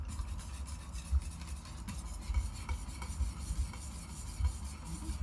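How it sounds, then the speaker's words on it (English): Whisk scraping and stirring through homemade cheese sauce in a pan, a steady close rasp with irregular soft clinks of metal against the pan and a low, continuous bubbling underneath. "So the trick is to keep whisking"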